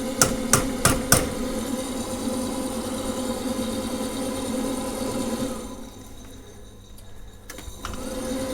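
Four sharp metallic taps land in quick succession on a gas boiler component over a steady running hum, then the hum drops and changes as the boiler fires up, with a few faint clicks near the end.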